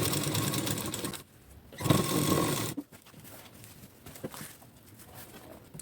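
A sewing machine stitching a blouse runs in quick rattling bursts, a short run, a pause, another burst, then a quieter stretch of light clicks and handling noise close by.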